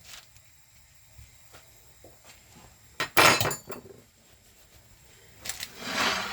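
Maple-glazed pork belly pieces are flipped in a pan, giving clattering metallic knocks and scrapes of utensil against cookware in a couple of bursts, with quiet background sizzle between them.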